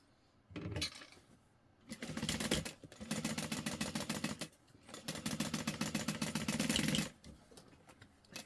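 A sewing machine stitching two fabric pieces placed right sides together for a trick-or-treat bag, running in two steady rattling bursts of a few seconds each, with a brief pause and low handling noise between.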